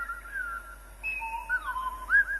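Whistled voices of the Clangers from the British TV show trade short, sliding, warbling phrases, several gliding notes rising and falling in a quiet, close exchange.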